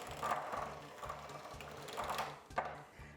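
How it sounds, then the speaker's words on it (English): Electric hand mixer creaming butter and sugar in a bowl for pumpkin cupcakes, a steady low mechanical whir with rhythmic repeating clatter of beaters against the bowl, fairly quiet and close, no voices. "use an electric mixer to cream these together until everything is smooth and well combined"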